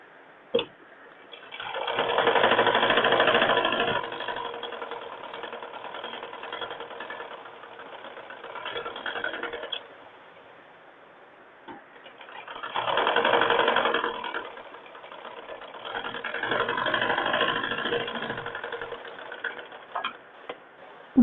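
A sewing machine stitches a blouse lining in several steady whirring runs of a few seconds each, separated by quieter pauses, heard up close with no talking.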